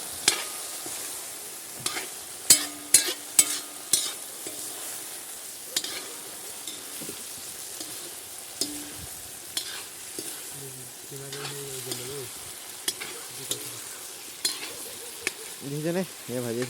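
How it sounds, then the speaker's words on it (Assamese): Potatoes fry in mustard oil in a wok, giving a continuous sizzle broken by sharp clinks and scrapes from stirring, mostly in the first few seconds and again later. "দেখিছেনে এয়া ভাজি আছোঁ পূৰা"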